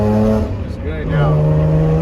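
A 1995 Lexus SC300 driving after a new clutch master cylinder, its engine humming steadily nearby with a brief dip as the gear changes, then pulling on smoothly; a voice talks over it.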